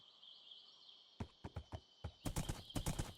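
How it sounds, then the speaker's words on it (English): Horse in the Minecraft video game, a faint whinny at the start followed by a run of crisp, close clip-clop hoofbeats that speed up into a quick patter. "Is that my horse? Why is my horse out here for?"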